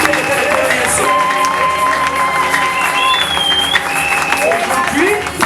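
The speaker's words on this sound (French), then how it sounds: "Acclamons encore." A church congregation applauds and cheers in a loud, lively roomful of clapping, with shouts and excited voices mixed in throughout.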